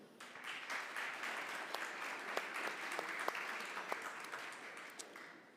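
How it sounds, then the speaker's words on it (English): Applause for exhibitors at a 5G and broadband conference session, a steady wash of many hands clapping from a sizeable audience, fairly distant and even, with a few sharper individual claps standing out. "So big round of applause also for the exhibitors."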